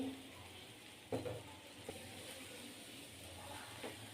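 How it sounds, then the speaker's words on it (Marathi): Modak filling stir-fried in a pan over low gas, a soft continuous sizzle with a few light scraping knocks of a spatula, fairly quiet. "एक ते दोन मिनटं परतवून घ्यायचं आहे छान कमी गॅसवरती"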